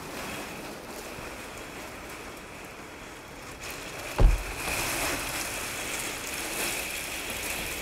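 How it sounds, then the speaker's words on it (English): Floodwater washing under a garage door on a flooded driveway, a steady broad rushing wash like surf or heavy rain, with one sharp pop midway and the rush growing louder and brighter afterward. "The water is being driven under the garage door."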